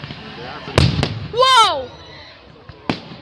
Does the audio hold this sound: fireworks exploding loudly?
yes